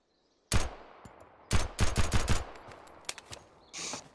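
Gunfire from a light .22 firearm in a video game: a sharp opening shot, then a quick burst of five or six cracks in rapid succession, followed by scattered fainter pops and a short hissing tail.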